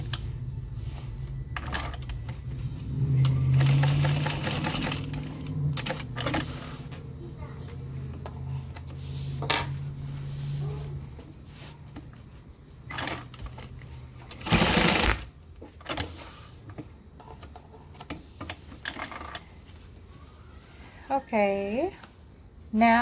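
A sewing machine basting down two fabric flaps on a pocket, a close whirring run of rapid needle stitching in a few bursts, with a person talking quietly between and over the stitching.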